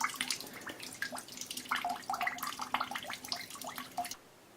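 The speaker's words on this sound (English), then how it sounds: "we will rinse it and see how good it looks after it's been rinsed." A cotton gauze filter is rinsed under running water, making a steady stream of splashing and gurgling close by that stops abruptly near the end, with no talking.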